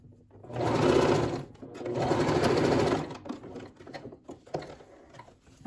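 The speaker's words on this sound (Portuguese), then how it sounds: "Dou um retrocesso e vem costurando." A domestic sewing machine stitches through layered fabric for a multi-pocket piece, running in two steady bursts of fast, even whirring with a short pause between, then giving way to quieter handling clicks.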